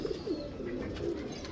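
Pigeons cooing in a loft holding a breed setup of about 40 Lakha pigeons, with soft, repeated low coos close by and steady bird noise throughout, no talk.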